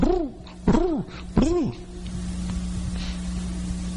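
A voice imitates a dove cooing, giving three rounded, warbling coos in quick succession, followed by a steady low hum and faint background hiss.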